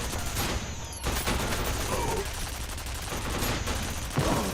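Computer-controlled turret gunfire in a video game, bursts of rapid shots in short volleys over a dense continuous battle din, loud and close, with several distinct bursts spread across the stretch.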